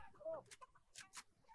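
A rooster clucks in the video game Fortnite, heard as short, faint fowl calls mixed with quiet in-game noise and low voices.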